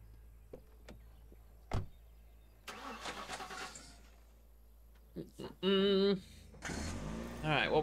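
Car engine starting in the zombie survival game The Last Stand: Aftermath, a short loud cranking burst after scattered thumps and a door-like knock, with a voice speaking before and after.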